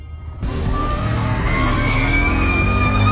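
A motorcycle accelerates hard past on a road, its engine note suddenly surging in loud and close, then holding a strong rising whine for several seconds.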